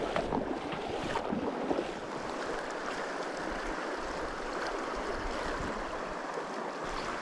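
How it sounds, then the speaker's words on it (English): Strong upstream wind buffets the microphone on a Montana river during fall fly fishing, a continuous broadband rush with flowing water beneath and occasional louder gusts, no talking. "Got a severe upstream wind"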